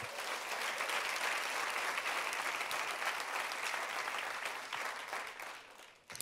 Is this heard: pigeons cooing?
no